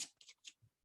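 A deck of playing cards for a card game is shuffled by hand, giving several quick papery riffles and flicks close up, with short gaps between bursts.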